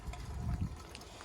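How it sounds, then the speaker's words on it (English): Water runs from a hose into the tank of a canal boat moored on the Llangollen Canal, a faint, short trickling gush. "The art of filling water up."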